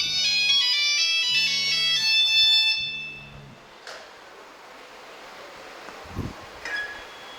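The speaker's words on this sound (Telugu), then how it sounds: "ఎవరో ఫోన్ చేస్తున్నారు." A mobile phone ringtone for an incoming call plays a bright repeating tune for about three seconds, then stops, followed by quieter room noise and a few soft knocks.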